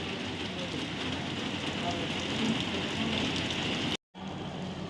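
Light rain falls steadily at Guruvayur temple, a soft continuous hiss of drops on surfaces close by, unbroken for several seconds apart from a brief cut near the end, with no voices.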